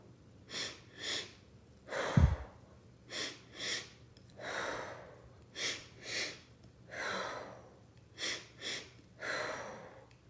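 Rhythmic breathing exercise with repeated sharp inhales and exhales in a steady cycle, close and clear, about a dozen breaths with one heavier, noisier breath early on and no talking.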